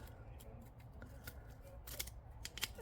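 A dahlia tuber crown being cut with a blade, faint crisp snips and crunches clustered toward the end over low background hum, with no talk.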